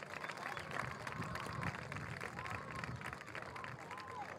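A school sports crowd at a football senior-night ceremony gives steady applause and clapping for the girls senior golfers, a dense, continuous patter with background murmur.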